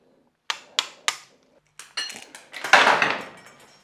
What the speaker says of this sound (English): when I hit this, all these rollers should go everywhere